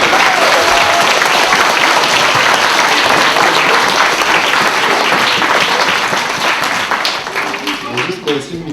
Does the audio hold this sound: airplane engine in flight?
no